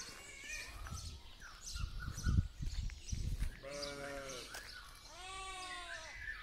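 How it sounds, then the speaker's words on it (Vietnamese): Goats on a rural farm in Germany bleat twice in wavering, nasal cries toward the end, after low handling noises and faint talk nearby. "Rồi nghe mấy bà dê kêu rồi đó."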